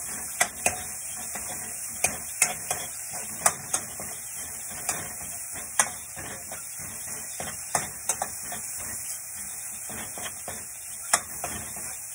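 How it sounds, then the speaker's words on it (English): Onion and garlic sauteing in a pan give a steady, close sizzling hiss broken by scattered sharp crackles and pops, with no voices. "imagine the smell of the onion and the garlic mixed together while sauteing"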